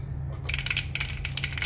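Mustard seeds splutter in two or three tablespoons of hot oil, a quick burst of sharp crackling pops over a low steady hum.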